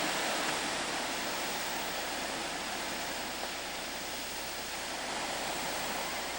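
Water from a small waterfall spills out of a hillside in Northern California, a steady broadband rush that stays constant and fairly close, with no talking over it.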